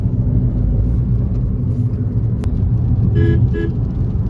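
Two short car horn toots from a Tata Tiago XZ+ sound over a steady low road rumble, heard from inside the moving car.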